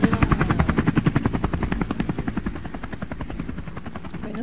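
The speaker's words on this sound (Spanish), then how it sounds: "Y el helicóptero se va." A helicopter's rotor thumps in a fast, steady chop that is loud at first and then slowly fades as the aircraft moves away.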